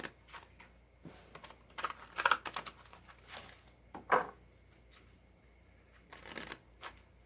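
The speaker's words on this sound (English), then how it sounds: "Go ahead and tune into these cards as I'm shuffling." Tarot oracle cards being shuffled by hand, soft papery riffles and slaps in irregular bursts with quiet pauses between, close and fairly faint.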